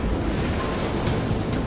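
Stormy sea waves surge and roar in the game Love and Deepspace, a dense continuous wash of surf with gusty wind, loud and close with no voices.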